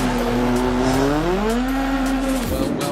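A rallycross car spinning a 360 at a Gymkhana Grid event: a loud engine tone rises and falls as revs swing through the spin, with tire squeal layered over it before the engine cuts sharply near the end.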